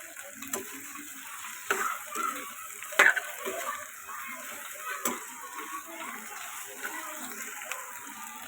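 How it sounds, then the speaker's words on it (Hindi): Sliced okra and onions frying in a pan, a soft, even sizzle broken by occasional close ladle clicks and taps as the vegetables are stirred. "प्याज फ्राई करने के बाद फिर डालेंगे इसमें भिंडी"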